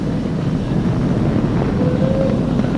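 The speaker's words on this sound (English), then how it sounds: "Flying crew on board Dragon and Falcon 9, and look at them go!" SpaceX Falcon 9 rocket with a crew aboard the Crew Dragon capsule climbing after liftoff from historic pad 39A, heard as a steady, loud, wind-like low roar that fills the whole stretch without letup.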